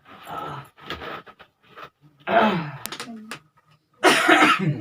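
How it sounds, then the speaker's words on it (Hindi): A person coughs several times in rough, separate bursts, close by, with throat-clearing between them and a heavy final cough. "खांसी हो गई पक्का हो"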